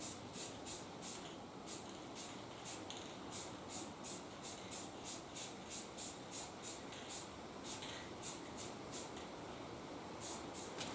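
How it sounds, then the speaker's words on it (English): Quick hissing spray bursts from an aerosol can onto a motorcycle light lens repeat in a steady rhythm over a soft constant background, close and fairly quiet. "I'm going to spray this real quick"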